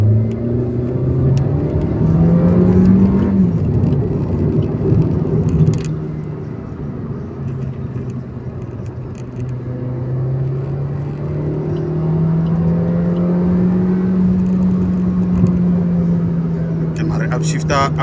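A 2022 Suzuki Swift Sport hot hatch accelerates on a drive, its engine droning and rising in pitch through the gears. Close and steady, with talk over it much of the time.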